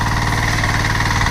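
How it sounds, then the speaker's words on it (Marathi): Power tiller engine idling in a paddy field during sowing in Konkan, a steady mid-pitched chugging drone with vibration, close and continuous. "हा बघा केतू बाई आमचे ट्रॅक्टर चालवते दादा."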